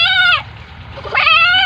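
A goat bleats twice up close, two wavering cries separated by a short quiet gap, with no voices over them.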